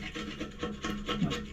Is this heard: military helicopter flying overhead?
no